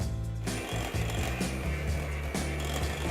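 An electric mixer whizzes vegan margarine into melted vegan chocolate, making a constant, loud motorized whir with a slight rhythmic wobble throughout.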